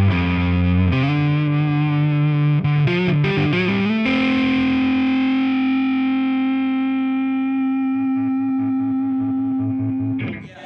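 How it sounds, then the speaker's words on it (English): A Gibson Les Paul Slash electric guitar rings out with heavy distortion, with a few quick chord changes and then one long sustained chord that slowly fades, played loud and close with no talking. "So I love the sound of this Les Paul"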